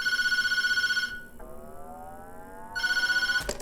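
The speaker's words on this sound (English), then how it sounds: "When you go back upstairs on Christmas Eve after banishing Mama, the phone will ring again." A telephone in a horror video game rings with a steady electronic trill. It breaks off for a brief tonal chime passage and then resumes, loud and close.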